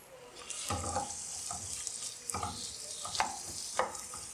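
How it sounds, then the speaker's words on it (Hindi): Chopped onions frying in oil in a pan for biryani, a steady hiss with intermittent stirring scrapes and clunks, close by, no talking. "प्याज़ों को गोल्डन ब्राउन करने के लिए हम पैन लेंगे, उसमें ऑयल डाल देंगे, कटे हुए प्याज डाल देंगे"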